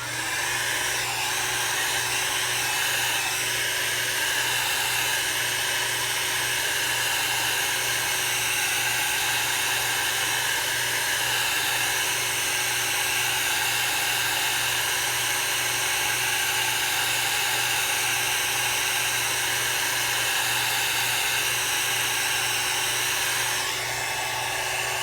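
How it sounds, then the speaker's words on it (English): A handheld dryer blows on alcohol inks spread over Grafix opaque white craft plastic, a steady, loud whirring hum that runs unbroken for about 25 seconds with no talk. "Maybe if I can get the dryer on."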